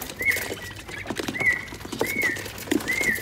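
A caged songbird sings repeated short, bright calls about once a second over low background noise, with no talk.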